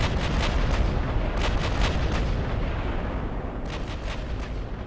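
A heavy naval salvo booms from a Japanese battleship of 1910 in Ultimate Admiral Dreadnoughts, a loud continuous rumble of big guns with sharper cracks breaking through at the start, middle and near the end.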